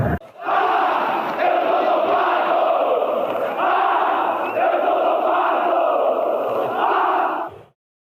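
Brazilian football supporters roar and chant in a sustained, loud mass at Estádio Olímpico in Porto Alegre, the crowd swelling in waves for about seven seconds before cutting off abruptly.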